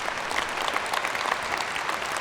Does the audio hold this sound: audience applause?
yes